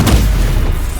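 A loud, low boom bursts at the start and rumbles on briefly as the Incendio fire spell is cast in the video game Hogwarts Legacy.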